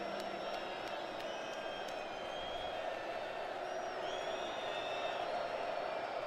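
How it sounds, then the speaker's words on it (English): A college football stadium crowd at West Virginia versus Cincinnati roars steadily for the home defense on third down, a broad sustained cheer with scattered whistles and whoops, distant and continuous. "Crowd getting behind the defense"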